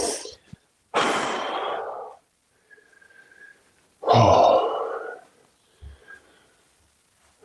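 Heavy, ragged breathing after upper-body strength work such as pull-ups and dips, in two loud bursts of panting exhales with quieter gasps between them, close to the mic.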